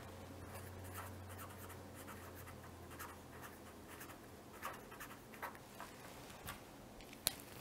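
A pen or marker writes on a board while pneumatic valve combinations are noted down, faint scratchy strokes and light taps under a low hum, ending in one sharp tap.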